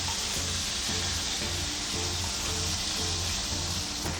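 Meat browning on both sides in a hot pan gives a steady, dense sizzle and crackle that holds evenly throughout, close and continuous with no voices over it.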